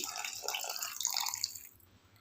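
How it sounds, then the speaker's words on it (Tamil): Half a tumbler of water poured into a pan of mushroom gravy for a kadai mushroom side dish, a brief close splashing trickle that fades out after about a second and a half. "இப்போ நான் ஒரு 1/2 டம்ளர் தண்ணி ஊற்றுறேன்"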